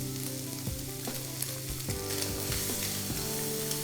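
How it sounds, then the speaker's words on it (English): Meat with black pepper, allspice and cinnamon sizzles steadily in an oiled pan, with several scraping stirs of a utensil cutting through the continuous frying hiss. "Keep frying or stirring them."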